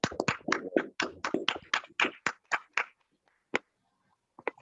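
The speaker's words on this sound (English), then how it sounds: "Can you turn on your microphone and give a round of applause" Several participants in an online Toastmasters meeting clap over their microphones, producing a loose, uneven burst of hand claps. The clapping thins to a few scattered claps and then falls nearly silent.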